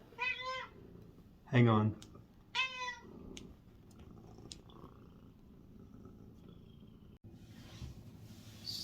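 A domestic cat meows three times in quick succession, close and fairly loud, followed by quieter sounds and a brief spoken voice.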